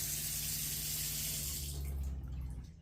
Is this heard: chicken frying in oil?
no